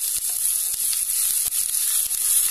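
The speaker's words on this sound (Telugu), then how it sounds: "మనం కట్ చేసుకున్న ఆనియన్స్ని ఇందులో వేసి చక్కగా వేగనిద్దాం." Chopped onions sizzling in hot oil with crushed ginger and garlic for a kanda gadda curry, a steady, loud frying hiss broken by small crackles and pops.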